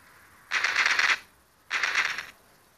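Two bursts of rapid automatic gunfire in a stickman zombie shooter video game, each lasting about half a second, loud and close with a short pause between them.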